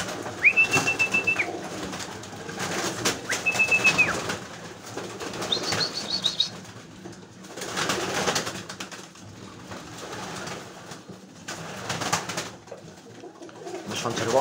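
Pigeons coo in soft repeated bursts at a pigeon loft, with wing flaps and a few sharp whistling calls amid outdoor movement and occasional voices.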